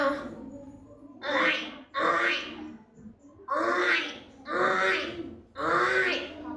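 A voice imitates a buffalo with five low, rough grunting calls, each a short throaty burst separated by brief pauses.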